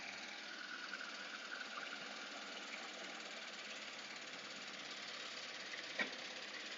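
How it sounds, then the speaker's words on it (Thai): A Singthai 10-ton nine-wheel pneumatic tire roller's engine runs steadily at a constant idle-like drone, with a faint clack near the end and no talking. "เสียงเครื่องทำงานปกติ"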